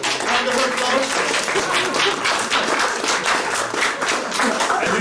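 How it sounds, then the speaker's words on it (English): Sustained audience applause at a community-work talk, dense clapping throughout at steady loudness, with some voices mixed in underneath. "Round of applause."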